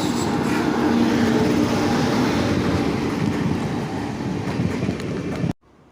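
The Kanyakumari–Pune Express rolls past on an Indian Railway double line toward Kottayam, a loud, close, broadband rumble and clatter of wheels and wagons that fills the scene before cutting off abruptly near the end.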